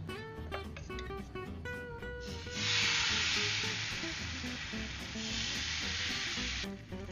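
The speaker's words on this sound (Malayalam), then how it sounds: "ഇപ്പൊ ദോശയുടെ മാവ് ഒഴിച്ചു കൊടുത്തിട്ടുണ്ട്." Dosa batter of maida and milk poured onto a greased pan, sudden loud bright sizzle that swells and holds for several seconds after some utensil clinks and scraping.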